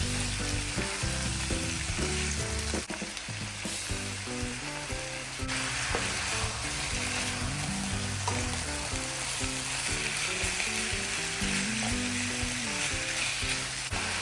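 Pork for adobo sautés in a pan with a steady close sizzle and crackle, while background music plays throughout.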